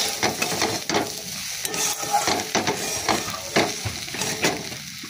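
Fried beans, eggplant and potatoes being stirred in a pan, giving a steady sizzle with repeated scraping strokes of a utensil, close and moderately loud with no talking.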